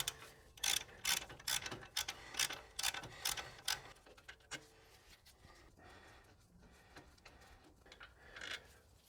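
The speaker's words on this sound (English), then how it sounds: "you can loosen them the rest of the way with a socket wrench" Socket wrench ratcheting as it loosens brake caliper bolts on a 100 Series Toyota Land Cruiser: quick bursts of sharp mechanical clicks, close and fairly quiet, tapering off into softer, sparser clicks.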